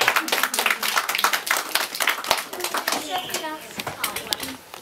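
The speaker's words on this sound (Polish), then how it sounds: "Przynajmniej dla niej brawa," An audience at a reading-contest summary applauds a young reader, a burst of many hands clapping close by, with speech heard alongside as the clapping thins out.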